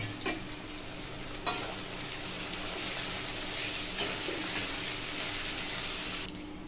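Onions salted beforehand frying in a pan while being stirred, giving a steady, continuous sizzle with scraping spoon knocks, close and fairly loud for the whole stretch.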